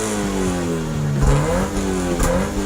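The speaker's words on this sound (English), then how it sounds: "The Polara is idling. Want to go for a ride with the top down? All right then, let's get revved up." A Dodge Polara's engine revs up from idle with the top down, a loud, close, throaty mid-range roar rising and falling in pitch as the throttle is worked.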